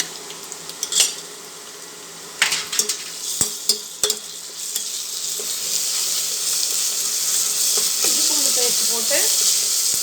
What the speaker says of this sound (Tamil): வெங்காயத்தை போட்டு நல்லா வதக்கணும் பூண்டு பேஸ்ட்டு